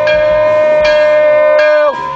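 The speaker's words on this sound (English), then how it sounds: "somebody ring the bell!" A bell rings out loudly at a car dealership, struck three times in a steady rhythm with each ringing tone sustained, then cut short at the end.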